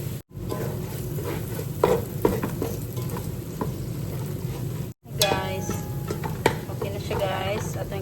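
Onion and spices sizzle steadily in a hot pan while a utensil stirs and scrapes through them, two close frying passages split by a brief cut, with crisp crackle throughout.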